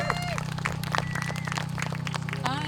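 A crowd applauds and cheers for young people at a Standing Rock gathering, steady clapping and hubbub with a low hum running underneath throughout.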